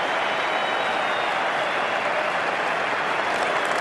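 A cricket crowd at an Ashes Test in Australia breaks into sustained applause, a dense, loud wash of clapping from thousands of spectators that holds steady throughout.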